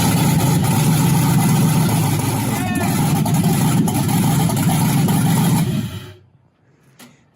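A 1978 Volvo 240 with a swapped 6.0 Chevy V8 runs loud and close with a deep, rumbling idle, then cuts off abruptly near the end, leaving quiet; voices can be heard faintly around it.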